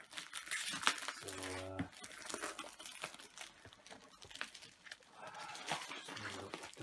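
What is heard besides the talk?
masking tape being peeled off packaging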